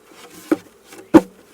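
Two dull thumps as beehive frames are knocked to shake off honey bees, with a faint insect hum between them; the buzzing is low and brief rather than a loud swarm.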